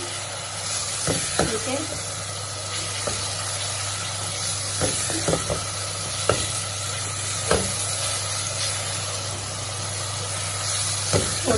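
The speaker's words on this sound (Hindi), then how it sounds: "अब मैं प्याज डालती हूँ। 1 मीडियम साइज का प्याज है, इसको कलर चेंज होने तक हम फ्राई करेंगे।" A medium-sized onion sizzles in a hot pan with a constant close hiss, broken by scraping clicks as a spoon stirs it. Someone briefly speaks over the frying.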